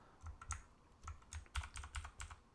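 A computer keyboard being pressed during graphics software work, a quick run of soft, close key clicks in an irregular rhythm, fairly quiet, with no voices.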